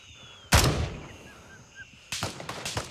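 Gunshots in the tactical shooter game Gray Zone Warfare: a loud sharp report, a pause, then a rapid string of shots and a final crack close by, no talk.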